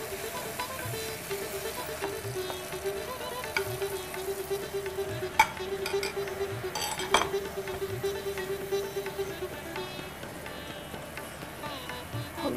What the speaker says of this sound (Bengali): এবার পটলগুলো একটা একটা করে ছাড়ো।